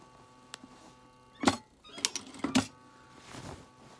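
A sewing machine runs in short bursts while topstitching a stretched trouser waistband, giving a few brief close mechanical whirs and clicks separated by quieter pauses.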